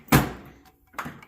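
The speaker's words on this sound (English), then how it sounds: "That drawer sounds like shit because it's missing one ball bearing slide on the other side." An old Craftsman V-Series tool box drawer, missing one ball bearing slide on one side, pushed shut with a sharp close thunk, then a second softer knock about a second later.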